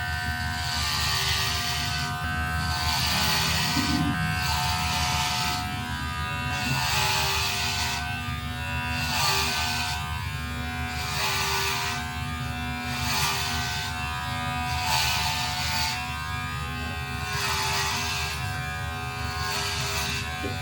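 Electric hair clippers buzzing steadily through a haircut at home, a loud continuous motorized drone with a regular pulsing rhythm as the blades pass through hair, nearly uninterrupted for the whole stretch.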